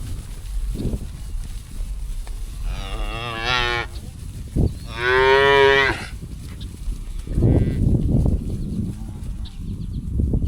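Cattle calves on a corn farm let out two drawn-out, wavering moos close by, one after the other, over faint outdoor rumble and shuffling noise.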